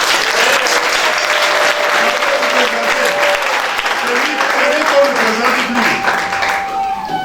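Congregation at a French-language thanksgiving church service applauding and cheering steadily throughout, a dense wash of clapping with voices and a held tone rising above it.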